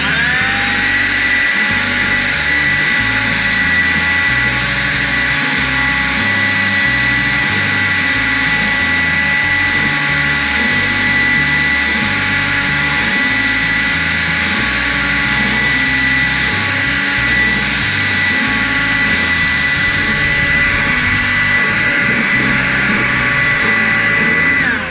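Compressed air is blown through the water lines of an outdoor fountain to winterize it, making a loud, steady whining hiss with a motor drone and a pulsing rattle underneath for the full stretch.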